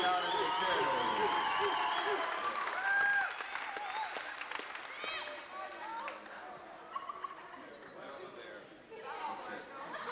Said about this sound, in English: give our star performers a nice round of applause as they sit back down in their chairs.